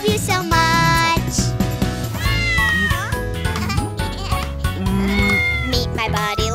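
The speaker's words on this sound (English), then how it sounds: "Meet my buddy, lovely buddy, my kitty Boo" A cartoon kitten meows within a children's nursery rhyme song, with repeated mewing notes over bright, busy music with sung vocals, loud and continuous throughout.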